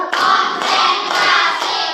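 A classroom of children claps together in loud, close bursts, with roughly four accented claps in a steady counted rhythm across the couple of seconds.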